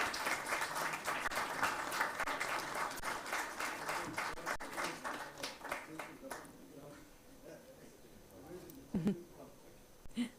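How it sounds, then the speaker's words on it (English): An audience at a technical summit applauds a speaker taking the stage, with dense clapping filling the first six seconds, then thinning to sparse claps and quiet room noise. "Can we please have a huge cheer for him?"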